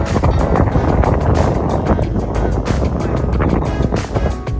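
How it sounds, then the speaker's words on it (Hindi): Strong wind roars against the microphone on a road trip near a flooded river bridge in Bihar, a loud, gusty, buffeting rush that stays constant throughout. "बहुत तेज हवा चल रहा है इधर।"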